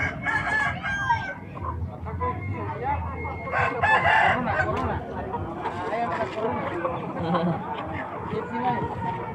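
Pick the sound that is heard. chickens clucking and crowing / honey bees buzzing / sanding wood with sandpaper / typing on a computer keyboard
chickens clucking and crowing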